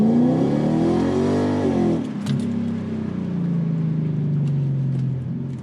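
An Infiniti Q45 running on blended E85 fuel accelerates hard from a standstill. Its engine revs up loudly in a rising roar, drops briefly at a gear change, then pulls again with a steady, strong drone.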